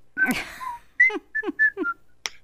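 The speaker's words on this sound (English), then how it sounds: "And I would whistle." A man whistles a short, bright tune of a few clipped notes and quick chirps, close and clear, in an otherwise quiet room, with a breathy sound at the start.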